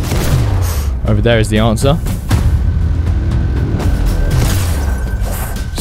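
Double hand cannon shots in the Fortnite video game: a few sharp, heavy blasts crack out at irregular intervals over constant game noise, with a person talking over most of it.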